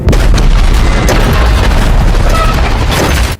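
A loud explosion booms and rolls on as a heavy, sustained rumble for several seconds.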